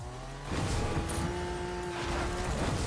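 A car in the Fortnite video game drives hard with a steady engine roar and squealing tires, loud and continuous with no talk over it.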